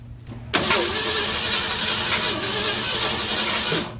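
A car engine with a points-based ignition cranks after its distributor has been turned 180 degrees, starting with a sharp burst into a loud, steady rough running that holds for several seconds before easing off.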